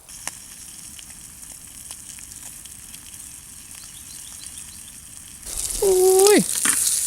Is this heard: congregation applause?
no